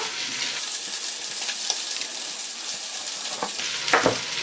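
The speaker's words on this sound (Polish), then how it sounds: "ogony się ładnie podsmażają" Beef oxtails fry in a pan with a steady close crackling sizzle, broken by a few light scrapes and utensil clicks near the end.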